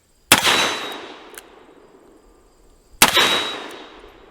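Two sharp, loud shots from a Ruger GP100 .357 Magnum revolver fired at swinging steel targets outdoors, each a crisp crack with a ringing metallic tail, spaced about three seconds apart.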